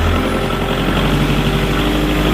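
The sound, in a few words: tractor engine revving up in snow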